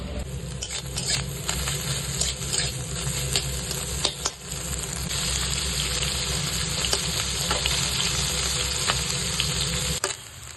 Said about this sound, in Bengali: একে একে সব ভেজে নিচ্ছি তারপরে একসঙ্গে এতে মিক্সড করে আবার ভাজবো